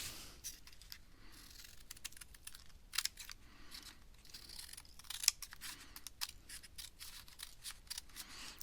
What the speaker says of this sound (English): Then I can start to cut off the bottom.